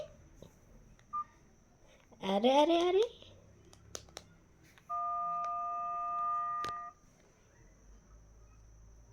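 Several short electronic mobile phone keypad beeps sound, followed by a longer sustained tone, after a child's brief vocal exclamation.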